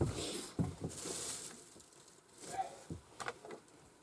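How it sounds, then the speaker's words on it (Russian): Rain falls outdoors in the taiga, a faint, uneven patter of scattered drops and soft taps, quiet and close, with no voices. "На улице дождь."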